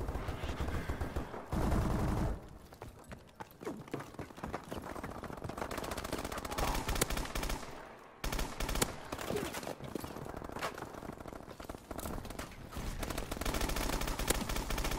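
Rapid sustained bursts from a PDW submachine gun in a first-person shooter, loud and dense, with a brief pause near the middle before the firing resumes.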